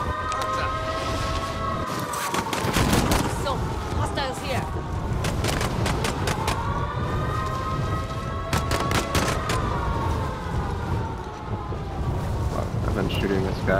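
Gunfire rattles in Call of Duty: Modern Warfare on Rebirth Island, bursts of shots repeating over a steady wind-like game bed, with siren-like tones wavering underneath.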